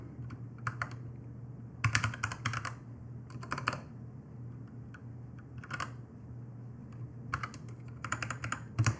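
Note being typed on a computer keyboard in short bursts of rapid clicking keystrokes separated by pauses, close and clear with no talking.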